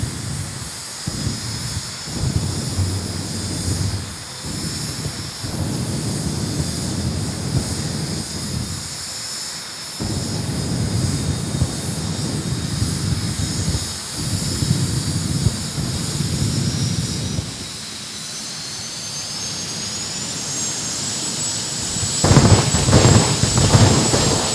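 Jet dragster engine giving loud, roaring power bursts at an NHRA Division 3 drag race, a sustained rumbling blast with a steady high whine above it and several surging pulses, growing louder near the end.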